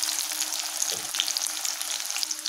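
Onions with cinnamon, cloves, fennel seeds and a bay leaf sauté in hot oil in a kadai, giving a steady, close sizzle with a brief stir or clink around the middle and no voices.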